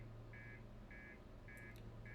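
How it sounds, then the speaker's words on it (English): Spaceship master alarm in the Outer Wilds video game: a steady, evenly spaced buzzing beep repeats four times over a low engine hum, with a couple of faint clicks in between. "Master alarm."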